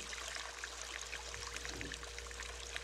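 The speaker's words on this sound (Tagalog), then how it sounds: "At wala kang maririnig na tunog kundi ang tunog ng tubig." Soft, continuous trickling water flows quietly in darkness, a faint, steady stream with gentle bubbling and a low background hum, with no voices present.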